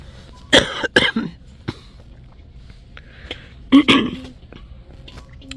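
Two bursts of coughing, one early and one a few seconds later, each a couple of harsh close hacks, with quiet background between.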